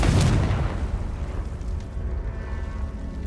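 A Confringo blasting spell detonates in Hogwarts Legacy, opening with a loud, close boom whose rumble fades over a few seconds with no voices.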